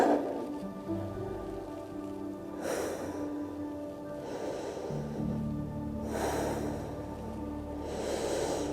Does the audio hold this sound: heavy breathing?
yes